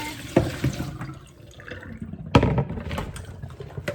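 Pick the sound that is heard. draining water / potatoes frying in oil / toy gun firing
draining water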